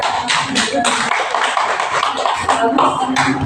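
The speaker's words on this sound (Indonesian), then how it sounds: "Tepuk tangan untuk kampungnya Sabil." A small group in a classroom discussion session claps briefly, with scattered taps and claps mixed under ongoing voices in the room.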